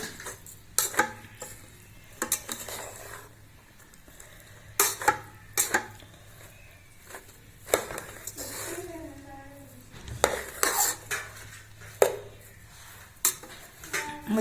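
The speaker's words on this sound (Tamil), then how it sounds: "இப்போ நம்ம நல்லா கிளறிடலாங்க" Vegetable fried rice is stirred in a pan with a metal spoon, producing repeated sharp clanks and scrapes at irregular intervals over a low hum, close and fairly loud, with brief talk in between.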